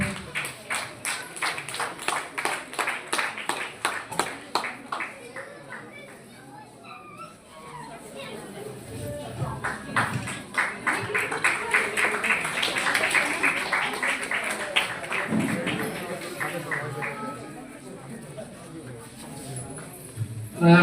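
An audience claps in unison for prize winners at a community Maghi gathering in Dhangadhi, Nepal, in two long rhythmic bursts, with someone speaking over parts of it.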